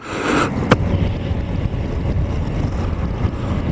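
Constant roaring wind buffets a motorcycle rider whose jacket front is unzipped, a loud, dense rush of air with one brief sharp knock near the start and no talking.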